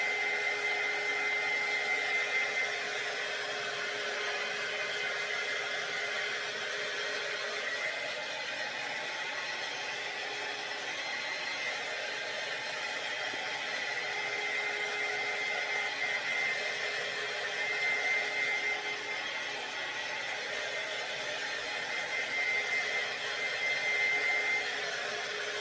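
A hair dryer blows steadily and loudly to dry chalk paste on a vintage-style spring flower market craft sign, a constant close whooshing roar that runs unbroken for the whole stretch with no voices.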